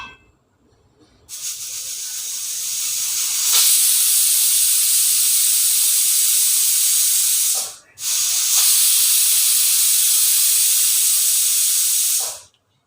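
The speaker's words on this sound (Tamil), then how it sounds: "ரெண்டு விசில் வந்துச்சுங்க" Pressure cooker cooking Kerala-style kappa (tapioca) curry, whistling and hissing with a loud, sustained steam blast that briefly drops out, resumes, then cuts off, close by and without talk.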